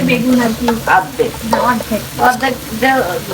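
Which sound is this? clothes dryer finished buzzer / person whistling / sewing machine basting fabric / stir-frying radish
stir-frying radish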